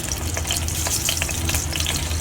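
Mustard seeds crackle and sizzle in hot oil over a low flame while a creamy sweet corn dish is cooked, giving a soft, busy, continuous spitting hiss heard alone.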